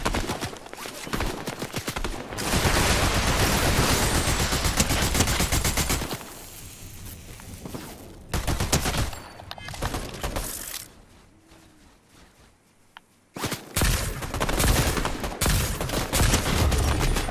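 Rapid video game gunfire crackles in dense, loud bursts, with brief lulls and a near-silent gap before another volley erupts; no speech over it.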